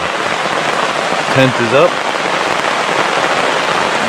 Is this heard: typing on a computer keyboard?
no